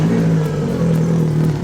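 Boat outboard engine idling on flushing muffs with the water running, a steady close droning hum that stays even throughout with no voices.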